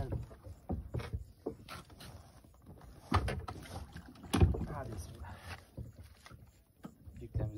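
A fishing boat's engine runs out on the water near Yumurtalık, a steady low rumble joined by wind and splashing, with bumps and knocks on the hull and people talking over it.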